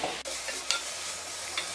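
Chopped vegetables frying for tomato rice are stirred in a pan, a steady sizzle with a few brief scraping strokes of the spoon, close and alone with no talk.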